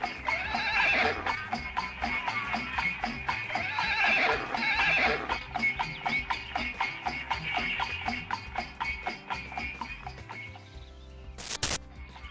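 A horse pulling a Victoria carriage in Karachi neighs repeatedly over a steady, rhythmic clatter of hooves, with brief bird chirps in the background.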